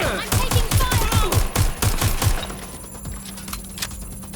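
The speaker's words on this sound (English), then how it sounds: "I'm taking fire!" Gunfire in the video game Watch Dogs: Legion, a rapid string of about ten evenly spaced loud shots over roughly two seconds, then quieter scattered reports and ringing tones in the background.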